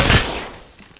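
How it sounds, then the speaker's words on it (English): Apex Legends gunfire: a short, loud burst of shots at the start, fading quickly into a decaying tail. "Open fire on the enemy."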